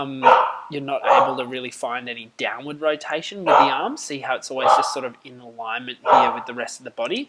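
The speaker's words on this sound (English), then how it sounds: "excuse the dog noises" A dog barks and yips in short bursts in the background while someone talks steadily over it, at an indoor or poolside setting near a surf wave pool.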